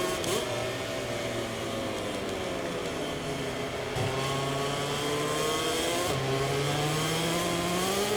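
Valentino Rossi's motorcycle in the MotoGP 24 video game during a sprint race, its engine droning steadily with throttle swells and revs that rise and fall in pitch through gear changes, moderately loud with no talk.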